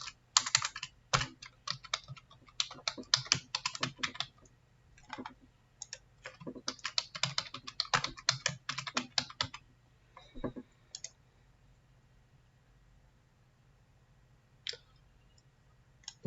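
Someone types a password on a computer keyboard during a Windows Server failover cluster setup: quick bursts of clicking keys with short pauses, then a few isolated taps as the typing trails off into near silence.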